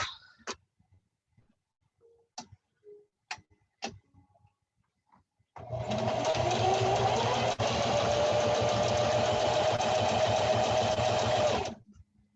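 A sewing machine stitches a tunic seam: a few scattered light ticks and clicks come first, then the motor runs in a steady, loud, continuous whir for about six seconds before stopping abruptly.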